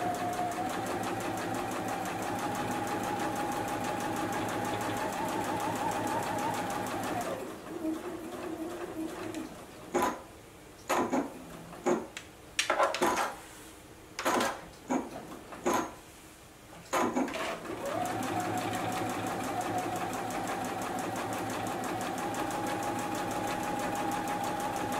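A JUKI sewing machine stitches the seam of a fabric beverage coaster, running steadily at first, then breaking into a string of short separate bursts with pauses between, before settling back into a long continuous whir near and clear.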